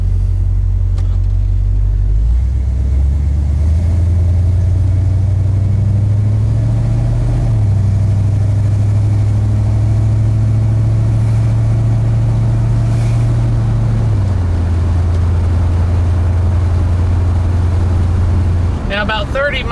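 Car engine droning steadily at around 30 miles an hour, fitted with a cowl induction hood scoop, a loud low rumble that shifts pitch a few times as it cruises, with wind noise and a brief rattle near the end.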